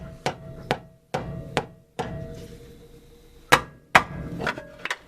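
Several sharp, close knocks of a rubber mallet striking a wrench while tightening a Honda Civic inner tie rod, coming in uneven bursts of two or three blows with short pauses between them.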